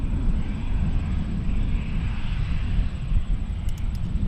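An American Airlines Airbus A320 takes off from runway 23 at Toronto Pearson, giving a steady, loud broadband jet roar that holds throughout without pause.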